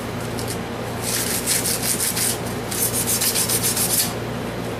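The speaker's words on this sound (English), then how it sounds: "Polish the steel a little more." Steel arrowhead being polished by hand, giving a steady close rubbing and scraping with rhythmic bursts of strokes over a constant low hum, no talking.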